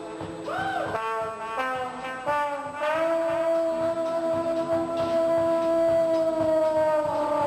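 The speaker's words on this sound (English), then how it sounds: "trombone. Yeah, well, it kind of sounds like this." A trombone is played in a demonstration by an Army show band at a school. It opens with short sliding notes, then holds one long sustained tone. The instrument is clear and prominent, with faint background noise underneath.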